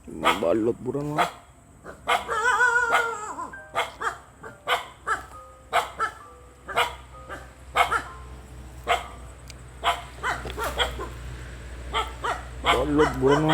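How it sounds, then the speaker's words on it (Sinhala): Several dogs bark repeatedly in sharp, irregular bursts at moderate distance in Sri Lanka, with a person talking near the start. "බල්ලොත් බුරනවා"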